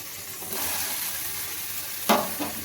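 Eggplant and potato fry in oil with onion and tomato, a soft even sizzle and hiss, fairly quiet, with a brief stirring scrape near the end.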